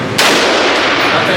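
A single loud gunshot goes off at a gun range, a sharp close crack followed by a broad ringing decay that fills the rest of the moment.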